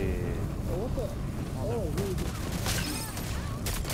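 Gunfire in the Rogue Company video game: dense, continuous volleys and sharp shots fill the whole span, with players talking over the shooting.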